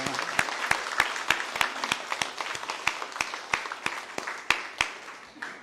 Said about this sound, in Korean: 우리 세 가족 위해서 박수 한번 보내겠습니다